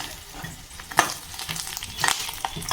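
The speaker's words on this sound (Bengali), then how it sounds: "এটা মাছের ডিম ভাজছি" Close sizzling and spattering of fish roe frying in a pan, with sharp pops and crackles scattered irregularly over a soft hiss; no talking.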